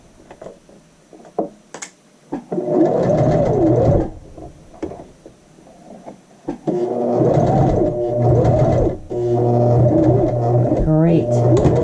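A sewing machine runs in two long stitching bursts along a skirt waistband near a side seam, with a brief back stitch at the end; short pauses and handling clicks fall between runs, and someone talks over it.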